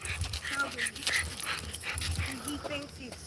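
A bulldog whimpers and pants in short, uneven yelps close by at a live barbecue gathering, with people talking loudly over and around it throughout.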